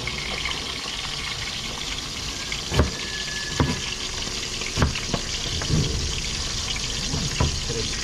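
Tilapia and onion fry in a pan with a continuous loud sizzle, broken by several sharp pops and spatters along with clinks of stirring.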